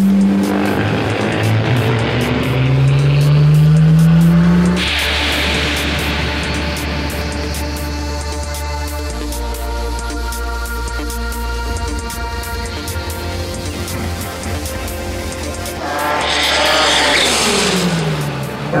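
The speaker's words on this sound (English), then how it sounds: "We're gonna see some great drag racing action today." Drag racing cars at Bandimere Speedway in Colorado during an IDRC street tuner event, loud engines revving and roaring with tire squeal, a long sustained run in the middle, then another burst of acceleration near the end.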